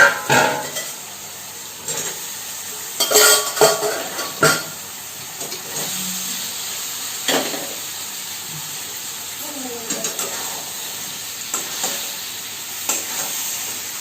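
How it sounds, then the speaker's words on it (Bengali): Cabbage sautéing with spices in a pan, a steady sizzle and hiss with intermittent scraping and stirring clatter, close and fairly loud, no talk. "এবার আমি কপিটা আগে করে একটু কষে নেব।"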